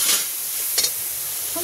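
Water poured into a hot pan of sizzling coriander powder, giving a brief burst of hissing steam followed by a quieter fizz and a short scrape, heard close up with no talking.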